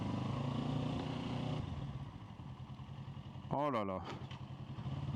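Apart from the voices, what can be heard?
motorcycle accelerating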